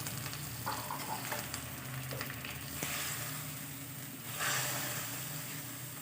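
Pindang fish, tomato and chili frying in a pan, a steady close sizzle with occasional stirring scrapes and bubbling throughout.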